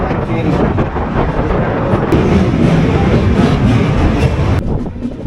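Mahanagari Express train running on a single-line route near Varanasi, a steady loud rumble of wheels on rails with continuous rolling clatter throughout, no voices.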